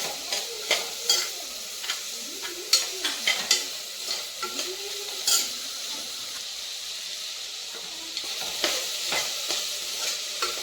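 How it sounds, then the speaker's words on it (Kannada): Chopped potatoes are stirred into chana masala pulao frying in ghee in a pan, giving a steady sizzle with intermittent scraping stirs of a spoon, close and clear. "ಇವಾಗ ಚಾಪ್ ಮಾಡಿ ಇಟ್ಕೊಂಡಿರೋಂಥ ಆಲೂಗಡ್ಡೆ ಸೇರಿಸ್ಕೊತಾ ಇದ್ದೀನಿ"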